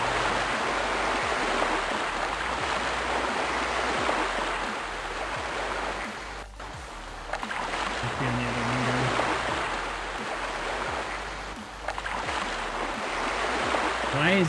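Water roars loudly and without a break through the video game Everquest: Hero's Journey, a steady rushing wash like a stream or surf. It dips briefly midway, and a short game tone sounds partway through.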